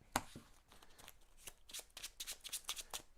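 The regular unit deck of Mage Knight cards gets shuffled nearby: a sharp tap, then a quick irregular series of papery riffles and slides, with no voices.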